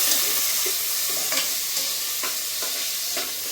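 Chopped tomato sautéing in a pan: continuous close sizzle with repeated scraping stirs of a spoon at a fairly even rhythm, no talk.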